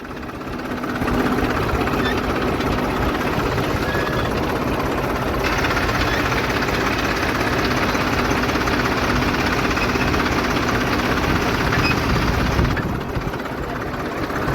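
A tractor engine runs steadily as it is driven in, a loud, continuous low chugging drone that stays close and even throughout, with only faint background voices.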